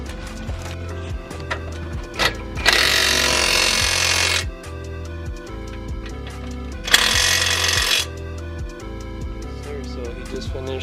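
A power tool drives brake caliper bolts on a Mercedes C43 AMG in two loud, sustained bursts of roughly a second or more each, separated by quieter clinking and rattling workshop sounds.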